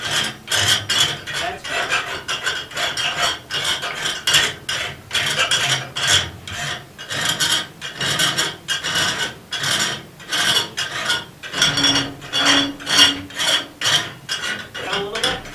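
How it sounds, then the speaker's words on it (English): A hand file worked over a forged metal arrow-pattern thru cusp latch body, a steady run of close, rhythmic rasping strokes, with a voice speaking briefly once. "We're going to give this just a quick filing."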